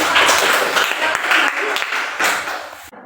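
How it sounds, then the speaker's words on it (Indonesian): A classroom applauds a presenting student group, steady dense clapping from many hands that fills the room for about three seconds and then cuts off abruptly. "Kita beri aplaus untuk kelompok"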